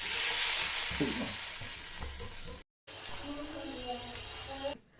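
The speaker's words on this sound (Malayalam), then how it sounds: "ആദ്യം വെളിച്ചെണ്ണ ചൂടായി പിന്നെ ഇതിന് ചെറിയ ഉള്ളി ഇടാം" Small onions frying in hot coconut oil for fish curry, a loud close sizzle that fades slightly, breaks off briefly, then resumes with stirring clatter and faint voices.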